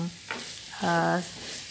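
Beef gore-gore with sweet soy sauce fries in a pan while being stirred, giving a soft, steady sizzle with a brief scraping swell from the stirring, close and moderately quiet.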